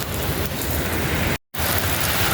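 Rain pours during a thunderstorm, a dense, loud, continuous hiss that drops out for a split second midway and then resumes; no thunder stands out.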